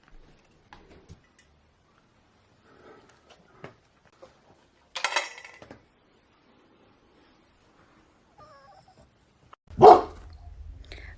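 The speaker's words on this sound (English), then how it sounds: "What are you barking at in the sky?" A dog named Sam barks at something in the night sky, giving two short, separated outbursts with quiet gaps between them, the second louder and closer.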